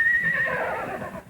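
One of a herd of rodeo horses on an Arizona ranch threatened by wildfire whinnies loudly and close, a single long neigh that trails off after about a second, with no talk over it.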